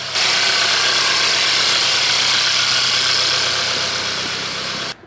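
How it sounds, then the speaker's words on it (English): Mercedes-Benz engine on a cold start, idling with a loud, dense, even rumble that holds steady for several seconds before cutting off abruptly. "All right, time for a cold start on the Benz."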